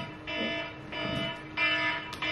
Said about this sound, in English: My emergency alarm going off.